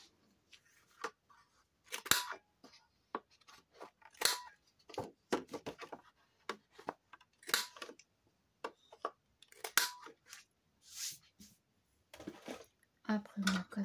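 Scissors snipping the points off paper for a garden-themed album, a series of irregular close, crisp cuts and paper rustles, with speech mixed in.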